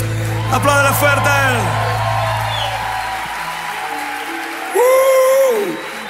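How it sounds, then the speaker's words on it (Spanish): An audience claps and cheers with whoops and shouts, loud at first and fading, then swelling again near the end, with voices calling out over the noise. "aplaudan fuerte."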